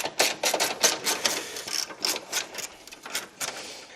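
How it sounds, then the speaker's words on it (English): A ratchet or wrench works the 10mm bolts loose from a Pontiac Firebird pop-up headlight assembly, giving a rapid series of sharp, close clicks in uneven bursts with no talking. "I'm going to remove those 4 bolts, and then this whole headlight assembly should lift right off."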